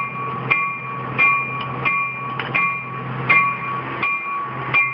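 A locomotive bell clangs repeatedly at a steady, even rhythm, each strike ringing out clearly with a metallic tone.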